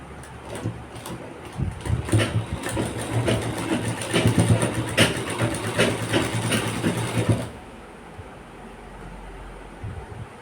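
Sewing machine stitching a V-shaped zipper piece, running in a fast continuous mechanical chatter for about seven seconds and then stopping abruptly, leaving quiet room tone.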